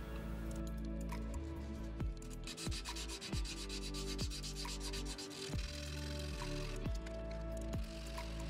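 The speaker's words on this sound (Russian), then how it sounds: "Сначала крупной шкуркой." Coarse sandpaper rubs steadily across a laser-engraved metal badge to clear burn residue, with continuous close scratchy strokes and no talking.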